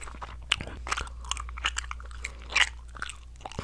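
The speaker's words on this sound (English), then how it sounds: "Today, we're going to be chewing gum." Bubble gum is chewed close to the microphone, giving soft, wet, irregular smacks and a few sharper snaps over a quiet low hum.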